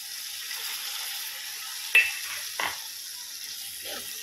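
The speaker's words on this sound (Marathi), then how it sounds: "आता ही केळी कापून घेतलेली टाकू आपण याच्यात।" Raw banana pieces sizzle and fry steadily in a pan for kacchya kelichi bhaji, a constant close hiss broken by two clanking spoon or pan strikes as they are stirred.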